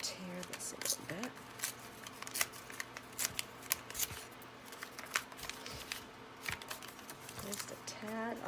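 Paper is torn into small pieces by hand in short, close ripping bursts, with a person talking quietly throughout.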